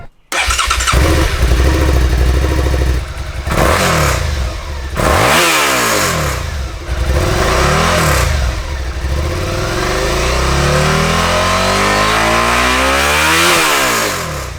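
A 2018 Suzuki SV650 motorcycle with its stock exhaust, heard up close: the engine fires up, then runs through repeated revs that climb and fall, before settling into a long, rising rev near the end, loud throughout.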